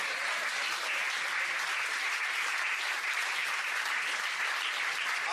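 A church congregation applauding together, a sustained even roar of many hands clapping at a uniform level from start to finish, somewhat distant and without any voices over it.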